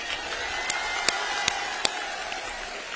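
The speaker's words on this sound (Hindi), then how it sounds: "जोरदार तालियां आप लोगों के लिए।" Sustained applause and crowd noise fill an outdoor political rally in Kanpur, with a few louder individual claps standing out against the steady roar.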